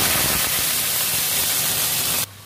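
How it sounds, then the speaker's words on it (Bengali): Young jackfruit pieces fry in hot mustard oil in a kadai, giving a loud, steady close-up sizzle that suddenly drops to a quieter hiss near the end. "সর্ষের তেল, এঁচোড়গুলো ভেজে নেব।"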